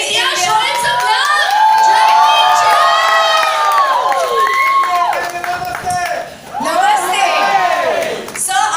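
A large crowd cheers, whoops and shouts loudly and continuously for Jackie Chan at a Kung Fu Yoga film launch event in India, with excited voices and whistles rising and falling throughout.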